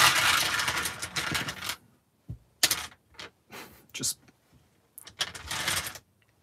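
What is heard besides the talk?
dice being shuffled in the video game Dice Miner Deluxe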